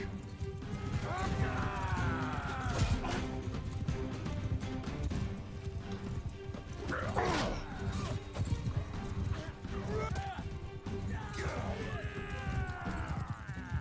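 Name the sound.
horse galloping in Mount & Blade 2: Bannerlord video game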